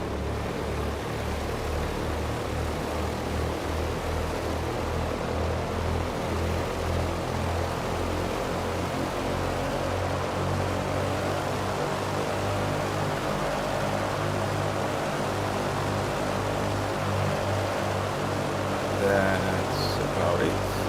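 A Douglas DC-3 propeller engine in Microsoft Flight Simulator 2020 drones at a steady, loud rumble throughout, with an even pulsing beat and a slight rise in pitch over time.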